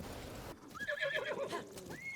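A horse in the video game Zelda: Breath of the Wild gives a single quiet whinny, wavering and rising, with soft hoof clip-clop around it. No one talks.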